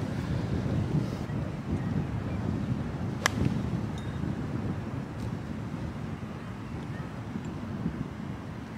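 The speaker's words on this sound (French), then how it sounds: "il y a du vent contre, beaucoup" Strong wind buffets the microphone on a waterside golf course in Dubai, a steady low roar with gusts and no clear pauses throughout.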